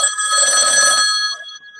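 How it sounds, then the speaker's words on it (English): An old-school telephone bell rings in a short, loud, trilling burst with a bright metallic tone, heard alone and fading out at the end. "Like anybody's phone sounds like that anymore"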